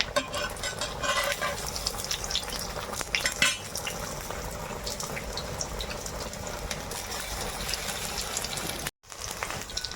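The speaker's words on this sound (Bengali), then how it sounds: "লাল লাল করে ভেজে তুলে নেব" Pumpkin flower fritters frying in oil, a constant close crackling sizzle with occasional utensil clinks and scraping, steady throughout and briefly cut off near the end, no talk.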